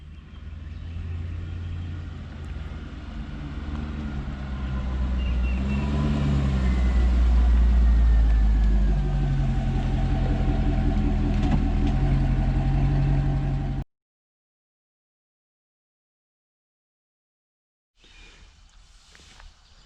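A 1997 Corvette with a couple of exhaust modifications idles with a deep, steady low rumble that swells louder midway, then cuts off abruptly into silence before a faint return near the end.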